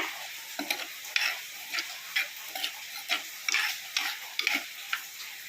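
A pan of fish-less fish curry boils on the stove, giving off a steady string of soft, rhythmic bubbling pops and ticks over a faint sizzle, with no voices.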